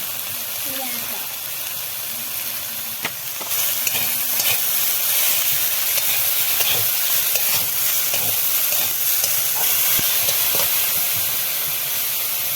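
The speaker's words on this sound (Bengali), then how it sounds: "আমার ওই আলুটা প্রায় ভাজা ভাজা হয়ে আসে" Potatoes fry with turmeric and salt in a pan, a constant close hiss and sizzle that grows louder partway through, with scattered clinks and scrapes of stirring and a brief voice early on.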